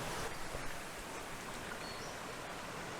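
Steady, dense rushing water of a snowmelt creek about three feet deep flowing nearby, a constant broadband wash with no voices.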